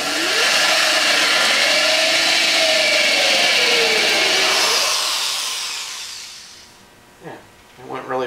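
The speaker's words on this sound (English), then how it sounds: "I'm going to dangerously attempt at drilling this first one without that." A power drill bores a dowel hole into a wooden divider for a vinyl record shelf, a loud close whirring drone with pitch shifting under load that winds down, followed by a voice speaking.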